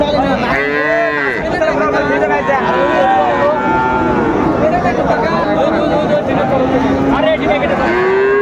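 A young bull calf moos loudly at a busy cattle market, its calls rising and falling over steady crowd chatter and nearby voices.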